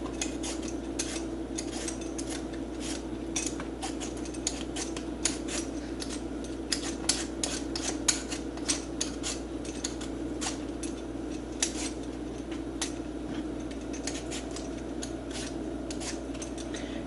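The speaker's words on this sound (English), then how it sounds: "first things first with our potatoes, we're going to peel them." Potatoes being peeled for an oven pot roast, a steady run of close, crisp scraping strokes in irregular rhythm over a constant low background hum, no talking.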